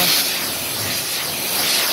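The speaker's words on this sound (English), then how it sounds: "it's a hydrophobic spray on coat that goes on the car when it's completely wet" Osren Water Coating hydrophobic spray being misted onto the wet body of a car, a steady broadband hiss that holds at an even, fairly loud level throughout, close to the microphone with no talking.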